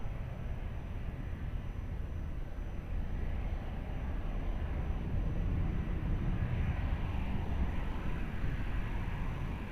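An airplane on approach to land on runway 20 at Lisbon Airport, a steady distant jet roar that swells gradually louder toward the end.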